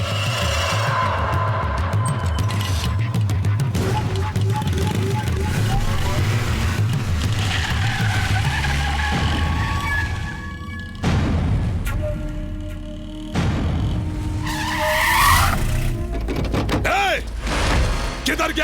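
A car swings around in a hurried turn during a Hindi film scene, its engine and tyre noise rising in a loud, cluttered burst with shouting voices over the top.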